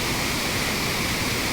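A Himalayan stream of icy snowmelt water rushes in a dense, loud, continuous roar close by, with no voices over it.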